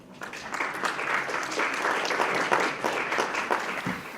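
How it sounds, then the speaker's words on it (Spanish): Loud, sustained applause from a conference audience welcoming a speaker for a talk on modernizing legal language, a dense steady clatter of many hands lasting a few seconds with no talk over it. "Vamos a recibirlo con un fuerte aplauso."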